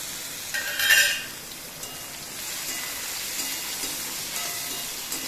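Chopped onions sautéing until golden in a pan make a soft, steady hiss of frying. A louder scraping stir comes near the start, and the sizzle then carries on evenly.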